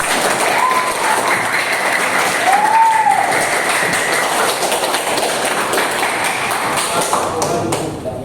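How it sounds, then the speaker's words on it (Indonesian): Students in an Indonesian classroom applaud at the end of a lesson during a teacher's performance exam, a dense, steady clapping that fills the room for several seconds, with a few voices underneath. "silakan kita kasih tepuk tangan dulu untuk kita semua"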